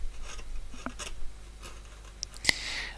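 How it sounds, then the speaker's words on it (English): A very sharp chisel pares wood while carving a rose, giving soft, faint crunching and scraping strokes spaced out, close by, with one sharper click near the end. "that's the sound of wood being cut with a very sharp chisel"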